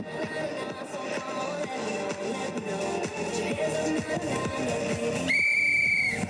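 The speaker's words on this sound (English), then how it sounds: "And the whistle is blown." A sharp, high referee whistle blast rings out near the end of a pony pairs event, following a stretch of busy background noise with rhythmic thumps and faint activity.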